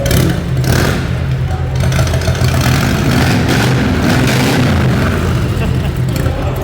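An old Polish PRL-era motorcycle with a loud exhaust, built for a loudest-exhaust contest, revving close up in a continuous loud, rough engine roar.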